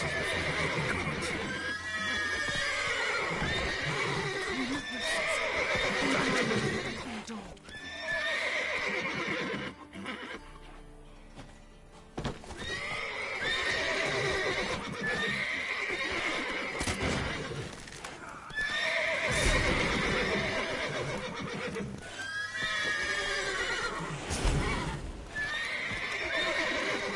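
Horses in a video game neigh and whinny repeatedly over a busy, dense backdrop with clip-clopping hooves; the calls recur loudly throughout.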